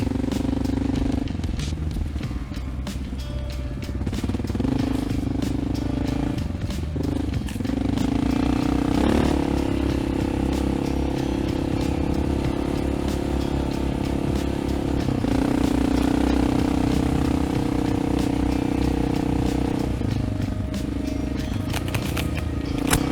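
A Honda XR650L dirt bike rides off-road through Ocala National Forest, its engine droning steadily with rising and falling revs, close and continuous, along with rattling and wind rumble.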